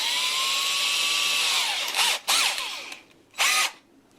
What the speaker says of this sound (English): So I'm going to be very careful not to hit any wires while I'm drilling in here.